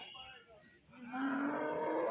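A single long, low moo from a cow, rising and swelling in the second half, heard fairly close against a quiet background.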